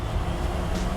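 The engine of a 1970 GMC 1500 HD pickup truck pulls in second gear with a loud, steady low rumble and drone, heard from inside the cab without talk.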